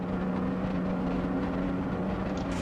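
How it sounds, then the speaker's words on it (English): BMW car engine in the racing game Assetto Corsa EVO at the Nürburgring, a steady loud droning roar with a constant low hum, sustained without a break and no talk. "BMW Real Sound is a monster roaring"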